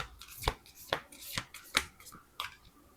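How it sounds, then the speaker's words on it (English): Large oracle cards are shuffled by hand in a run of crisp, riffling bursts, about five sharp flurries spaced roughly half a second apart, close and fairly quiet. "It's really hard to shuffle with this big cards"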